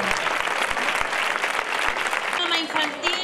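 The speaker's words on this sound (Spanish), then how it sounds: "Un fuerte aplauso para esta nueva dama" Applause for a new lady of honour at the coronation ceremony of the Facinas fair, a dense, loud wash of clapping from a crowd filling the whole stretch, with a voice briefly heard near the end.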